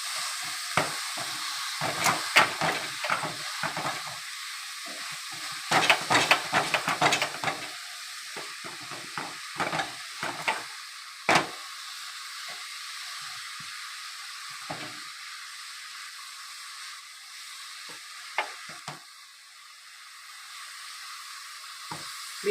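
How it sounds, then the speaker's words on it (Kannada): Grated beetroot sizzling in a hot pan as it is stirred, a steady frying hiss with irregular scraping clatters of the spoon, louder early then settling, no talk. "ಇವಾಗ ಬೀಟ್ರೋಟ್ ತುರ್ಕೊಂಡಿರೋದು ಬೀಟ್ರೋಟ್ ತುರಿ ಹಾಕ್ತಿದ್ದೀನಿ ಫ್ರೆಂಡ್"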